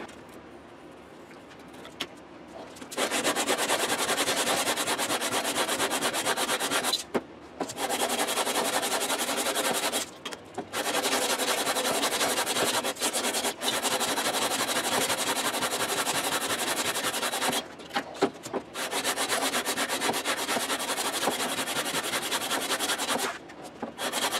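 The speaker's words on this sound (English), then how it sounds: "We're going to put a 20-inch radius on this guy. We're going to do it with some 80 grit." Sanding a guitar fretboard to a 20-inch radius with 80-grit sandpaper, a continuous close scratchy rubbing in long strokes broken by brief pauses, loud and steady with no talking.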